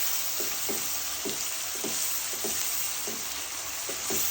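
Chicken frying with garlic and ginger paste, stirred in rhythmic strokes roughly every half second over a continuous close hiss of sizzling oil, with no voices.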